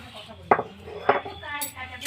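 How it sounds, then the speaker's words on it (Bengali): Ground ginger paste scraped from a grinding stone into a bowl, two distinct scraping clinks about half a second apart, close and moderately loud, with a faint rasp at the end. "এবারে আমি এটা বাটিতে তুলে নিচ্ছি।"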